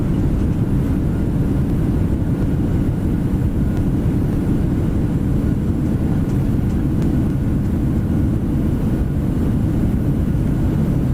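A PMDG 737-800 airliner landing in Microsoft Flight Simulator, its jet engines and rushing air forming a loud, steady low rumble that holds evenly for the whole stretch.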